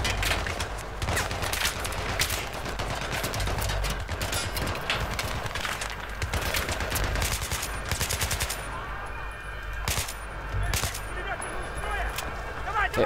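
Rapid machine gun fire and scattered gunshots from the Battlefield 3 video game rattle almost nonstop and loud, with bursts overlapping in a dense combat din under occasional talk.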